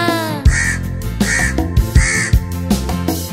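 Repeated harsh crow caws, three or four loud calls in a steady rhythm over a bright musical backing in a Bengali children's rhyme.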